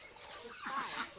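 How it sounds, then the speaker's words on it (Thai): Chickens cluck softly around a rural home village yard in the morning, a brief faint burst of calls at moderate distance with no talk. "เป็ดไก่เพิ่นหลาย"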